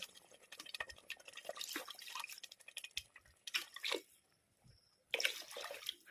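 Water splashes and trickles into a cooking pot of rice in uneven bursts, with short pauses between pours and a few drips.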